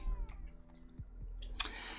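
A cat meows in a Magic card video game, a short clear meow followed by a bright chime-like game effect, heard alone without talk.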